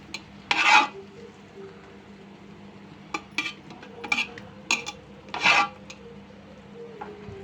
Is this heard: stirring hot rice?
yes